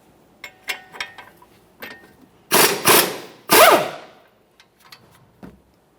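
A ratchet with a 22mm socket works the front strut mounting bolts on a 2014-2019 Toyota Corolla, giving scattered close metallic clicks followed by three louder, longer bursts of ratcheting.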